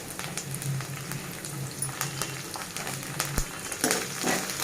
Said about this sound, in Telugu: ఆనియన్ ఇంకా ఫ్రై అవ్వాలండి